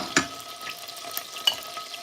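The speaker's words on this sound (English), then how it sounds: "You can hear the chicken sizzling away." A light sizzle and crackle of marinated chicken searing in a pot, with a few sharper pops and spits over a soft steady hiss.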